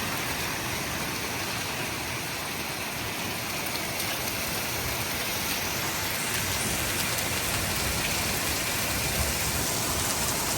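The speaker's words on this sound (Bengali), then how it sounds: "এই যে শিলা বৃষ্টি হচ্ছে" Hail and heavy rain pour down during a hailstorm, a dense, loud, unbroken hiss and patter that keeps going evenly throughout, heard without talk.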